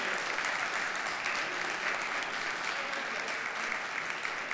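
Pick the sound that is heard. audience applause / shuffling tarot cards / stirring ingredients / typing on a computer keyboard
audience applause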